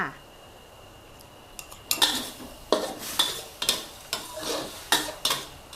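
Crispy pork with eggplant and fried garlic stir-fried in a sauced pan, with a faint low sizzle and a run of sharp metal spatula scrapes and knocks that come in irregular bursts, close and fairly loud.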